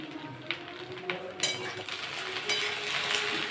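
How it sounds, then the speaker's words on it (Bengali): Okra (bhindi) frying in a pan, giving a soft steady sizzle with occasional scrapes and stirring clinks of a utensil, close by and moderately quiet. "আর কি ভেন্ডি ভাজাটা হয়ে এসেছে।"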